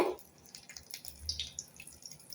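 Cooking oil poured into a kadai pan in a kitchen, a faint, steady trickling pour with small liquid splashes at low volume.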